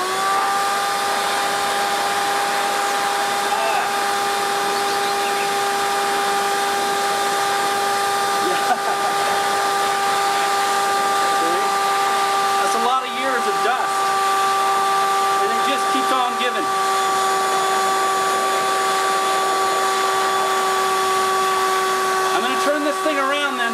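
Shop vacuum set to blow, blasting dust out of a piano, a steady loud whining roar with constant tonal hum throughout, briefly wavering as the nozzle moves.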